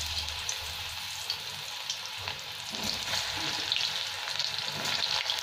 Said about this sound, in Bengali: পটলটা ভেজে নিচ্ছি আমি।